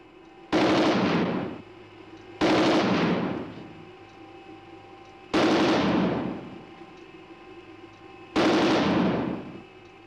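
Four sharp MAS 5.56 rifle shots ring out at a steady interval of about two to three seconds, each loud crack trailing into a short decaying echo, with no voices.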